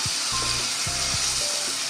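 Garlic ginger paste frying in hot oil gives a steady, close sizzle, with faint clinks of a spoon or pan beneath.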